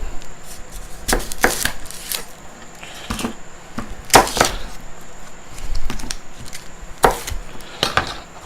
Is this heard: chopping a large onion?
yes